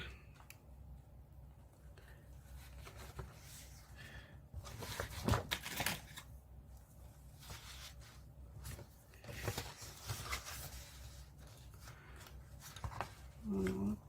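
Scissors cut through paper for a lapbook insert pocket, making close, quiet snips and rustling paper handling in irregular bursts, with soft background movement and no clear talking.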